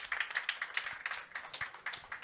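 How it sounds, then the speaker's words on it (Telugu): Thin, scattered applause from an audience at an award ceremony held for a poet's birth anniversary celebration, with steady, light hand claps carrying on at moderate volume and little enthusiasm. "చప్పట్లు చప్పగా ఉన్నాయి"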